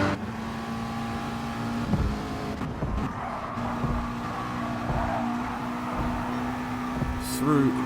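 A McLaren race car in GT Sport runs through a fast S section on a Tokyo circuit, its engine a steady droning hum under calm commentary, with brief shifts in pitch and passing noise.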